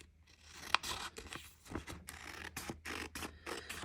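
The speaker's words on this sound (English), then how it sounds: "take your nail and just make a line at the seam, and then go ahead and cut it" Scissors snip through a thin Bible paper page, a quiet run of short crisp cuts and rustling strokes in an uneven rhythm, with one sharper click near the start.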